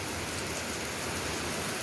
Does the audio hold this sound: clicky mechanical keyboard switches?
no